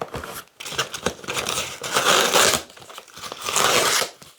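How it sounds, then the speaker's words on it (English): Packaging crinkles and crumples up close as a package holding a newly bought microphone is unboxed, with loud rustling bursts and a short tearing texture, no voices. "So let's unbox this package."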